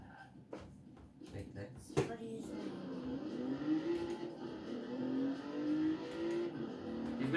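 A BMW i8 accelerates in the racing game Forza Horizon 4, its engine note rising in a sweeping, climbing whine over several seconds after a couple of sharp clicks, with someone talking over it.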